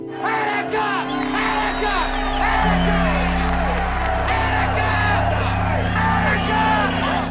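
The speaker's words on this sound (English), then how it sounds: "police and curious crowds begin to surround the bank" A dense, noisy crowd gathered around a bank in a film scene, with overlapping shouts, whoops and scattered cheering under steady low rumble, loud and continuous throughout.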